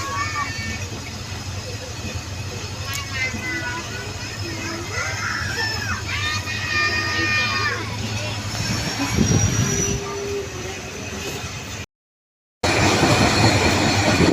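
Hazara Express passenger train running near Feroza station in Pakistan, a steady loud rumble of wheels and carriages with squealing tones rising over it, heard close from on board, with voices talking over the noise.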